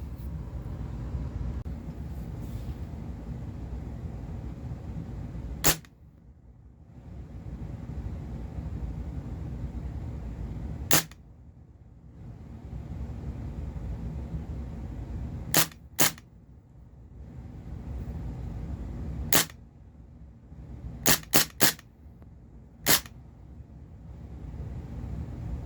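Springfield Armory M1 Carbine CO2 airgun firing with blowback action: sharp, loud cracks, single shots spaced seconds apart and then a quick cluster near the end, over a steady low background hum.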